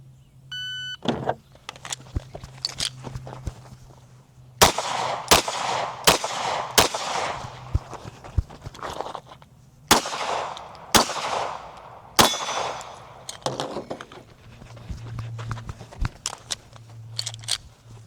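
A Staccato HD 4.5 pistol fires at a range, a string of sharp loud gunshots in irregular bursts of several shots, each with a short metallic ring, close to the listener.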